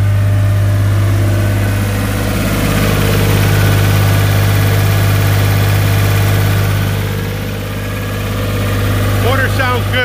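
A New Holland L785 skid loader's engine runs at a steady idle, close and loud, with a constant low hum and vibration throughout and no speech over it.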